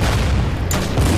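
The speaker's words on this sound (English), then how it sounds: "So in the south, we can probably hit that tank with the artillery." Artillery fire in the strategy game Order of Battle: Winter War, a dense continuous booming rumble with a brief sharp crack partway through, loud and sustained, with no voices.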